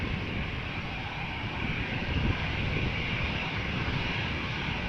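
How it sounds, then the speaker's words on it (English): An Aer Lingus Airbus A320 taking off at Amsterdam Schiphol, heard as a continuous broad engine roar that stays loud and steady throughout. "The next airplane will be taking off right in front of us. Aer Lingus going to Cork, A320"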